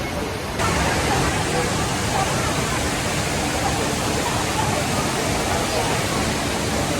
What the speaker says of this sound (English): This is inside of an airport. It's one of the largest water fountains.